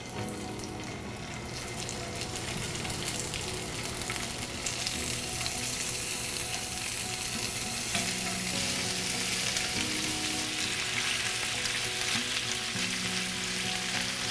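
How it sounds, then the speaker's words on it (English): Fish searing in a hot pan for Vietnamese canh chua, a steady loud crackling sizzle that runs without break throughout. "I'll just sear it and then take it out"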